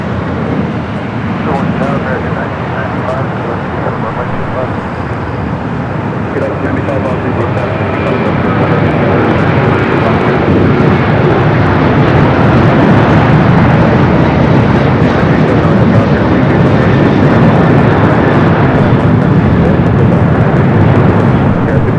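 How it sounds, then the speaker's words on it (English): A Delta Airbus A350-900 airliner at Los Angeles LAX airport, bound for Tokyo Haneda, roars with a loud, steady jet engine rumble that swells slightly and holds throughout. "Next arrival, we do have a Delta A350-900, Flight 7 heading to Tokyo Haneda."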